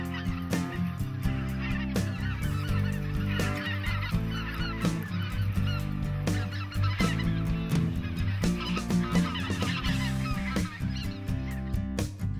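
A large flock of white-fronted geese (specklebellies) honks loudly and continuously in a flooded Arkansas rice field, many overlapping calls forming a dense, chattering chorus with no voices.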